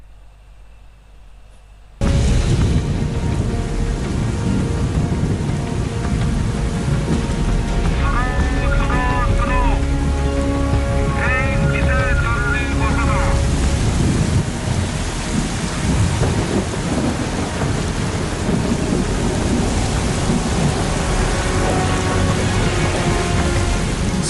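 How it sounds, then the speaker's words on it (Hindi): Heavy torrential rain and gusting storm winds of a super cyclone roar loudly and continuously after a sudden start, with thunder-like rumbles and faint higher tones briefly rising through the din. "तूफानी हवाएं वहां पर चल रही है, मूसलाधार बारिश हो रही है।"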